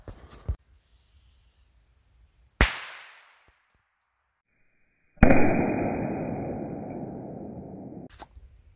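Two sharp rifle shots fired outdoors at a dime target 25 yards away, each a loud crack with a short decaying tail. They are followed by a long, steady hissing rush and a final click.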